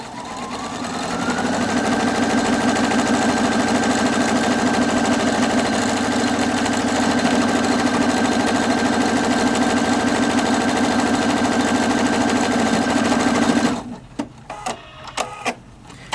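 Viking Opal 670 sewing machine stitching a buttonhole on its own, a loud, steady rapid mechanical whir that runs for about fourteen seconds before stopping abruptly, followed by a few quiet clicks.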